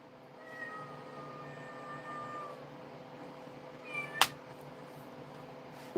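A kitten gives a thin, drawn-out meow followed by a sharper short cry, fairly close against a quiet indoor background hum, with no talking.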